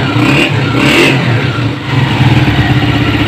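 Honda CG 125 motorcycle engine revving while warming up, loud and close, with a pulsing mid-pitched drone that rises and falls with the throttle.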